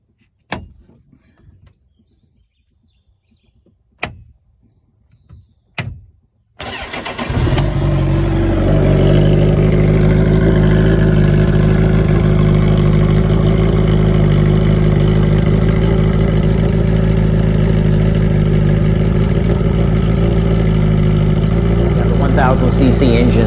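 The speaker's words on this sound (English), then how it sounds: "He actually fires up the engine, so you can hear the motor run here for a second." A few sharp clunks and knocks, then an engine roars to life and runs loud and steady, a deep sustained rumble that fills the rest.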